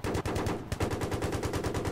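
Rapid automatic fire from an M4A1 rifle in the video game Battlefield 3, a loud, steady stream of shots at an even fast rhythm for the full length, up close and with no talk.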